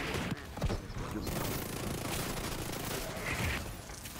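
Gunfire in The Division 2, a dense continuous volley of shots with sharper cracks near the start, loud and steady throughout with a faint voice briefly underneath.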